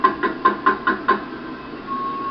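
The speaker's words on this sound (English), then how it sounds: "His thoughts are interrupted by urgent knocking at the door." Urgent knocking at a door, six quick raps in a rapid burst, close and fairly loud, followed by a steady low hum with no voices.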